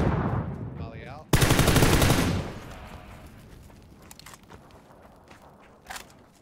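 A rapid burst of rifle gunfire rings out in a PUBG match, one loud dense volley lasting about a second, then fading to quieter footsteps and a faint later shot.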